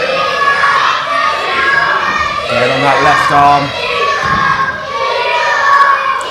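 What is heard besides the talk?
wrestling crowd reacting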